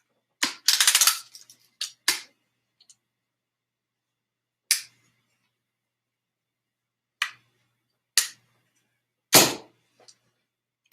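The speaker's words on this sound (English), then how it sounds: "that's basically a blue BB gun" A blue BB gun fires several sharp, isolated snaps spaced a second or more apart, with one quick cluster near the start, against near silence.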